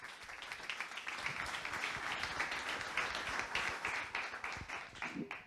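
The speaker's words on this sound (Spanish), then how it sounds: "Un aplauso para los dos." An audience at a business forum on artificial intelligence claps for two speakers, a fairly soft, even patter of many hands that carries on steadily for several seconds before thinning out.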